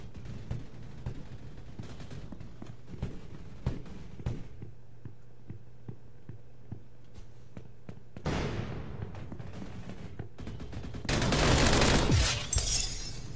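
Gunfire in the Roblox shooter Energy Assault: sharp clustered shots crack over a low game hum, followed by louder bursts and a dense, noisy blast toward the end, with no speech.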